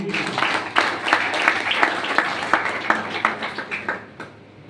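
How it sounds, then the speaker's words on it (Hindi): Hearty applause and clapping from a seminar audience, dense and lively with distinct individual claps, dying away near the end. "एक बार जोरदार ताली"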